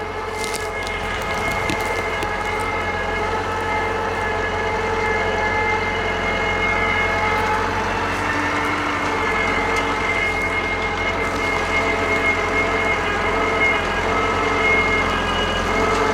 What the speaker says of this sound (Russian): трактору и так сложно. Он сильно очень надрывается